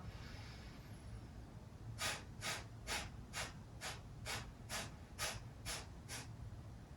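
During a yoga breathing exercise, a quiet stretch of breath gives way to a rapid series of about ten sharp, forceful nasal exhalations at an even pace, faint and close.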